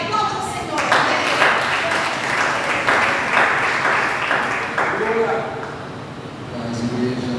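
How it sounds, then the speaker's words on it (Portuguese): A church congregation claps in praise, a broad wash of applause mixed with voices and a few cheers, swelling early then easing off while talk continues over it. "Aplaude o Senhor."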